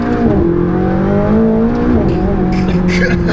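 Stock exhaust of an orange McLaren 675LT revving loudly and close, the engine note climbing and holding, then dipping and rising again, with a voice speaking over it.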